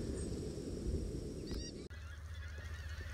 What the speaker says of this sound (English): A lovely party of white fronts have appeared here.